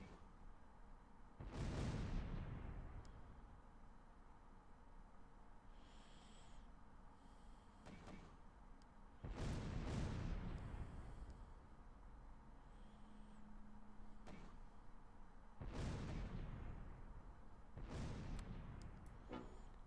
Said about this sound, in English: which means it's mortar time